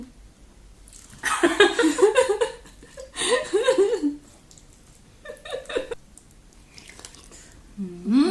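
Crunchy, close chewing of crispy pork rinds comes in several bursts of a second or two, with laughter and chuckling among them.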